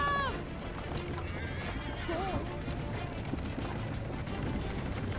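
A horse whinnies sharply at the start, then a busy action scene carries on, with hooves, crashes and shouting voices mixed into a dense, steady background.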